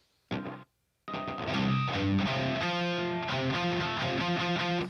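Distorted electric guitar picked tightly at an angle for clarity, opening with a short stab, a brief silence, then a dense riff of crisp high notes over a tight low-string chug, steady and fairly loud.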